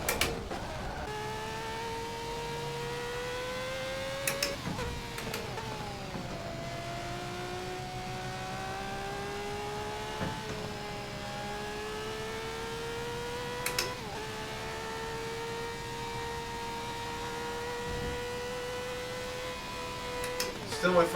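Race car engine in the video game Assetto Corsa, a steady droning whine that rises and dips with gear changes and throttle, continuous and moderate in level over about twenty seconds.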